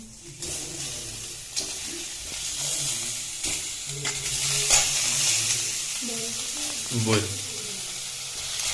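Boiled pork dry-fried in a hot wok with no oil gives a steady, close sizzle with scraping stir strokes throughout, and a voice is briefly heard under it.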